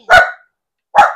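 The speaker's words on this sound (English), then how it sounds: "Why are you barking?" Two sharp, loud dog barks close by, separated by a pause of about a second.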